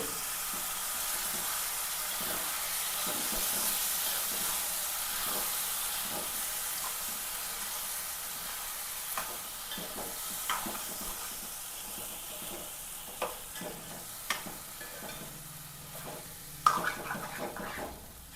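Cooked papaya and green gram stirred in a hot pan, producing a steady close sizzle and hiss with occasional scraping and clinks of the spoon against the pan, continuous without talk.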